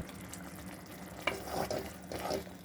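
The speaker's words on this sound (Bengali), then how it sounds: "টমেটোটা কষানো হয়ে গেছে, এখন দিয়ে দেবো মশলাটা" Tomato and spices frying in a pan for a lentil dish with bottle gourd, a soft sizzle with a few louder stirring scrapes in the second half.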